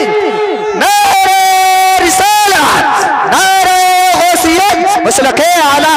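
A large crowd at a religious gathering roars back a rhythmic chant in response to a Nara-e-Takbeer call, loud massed voices surging in repeated waves of shouting over a reverberant hall.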